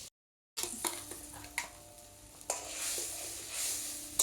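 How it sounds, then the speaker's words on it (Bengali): Hilsa fish head and eggplant fry in a pan, a steady close sizzle broken by several sharp stirring and spatula scrapes, with no talk. "এবার ইলিশ মাছের মাথা ভাজা হচ্ছে, বেগুন ভাজা হচ্ছে ইলিশ মাছের জন্য।"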